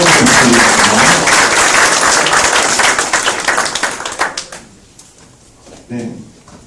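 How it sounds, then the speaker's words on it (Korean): Audience at a startup networking forum giving a loud round of applause that fades out after about four seconds, followed by a few scattered claps and brief talk. "네, 그럼 박수 한번 부탁드리겠습니다."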